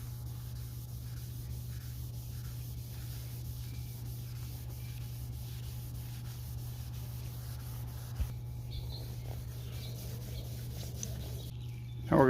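Wet sanding of a yellowed headlight lens with 3000 grit sandpaper: a steady, soft, continuous rubbing hiss over a low constant hum, ending with a brief louder clatter.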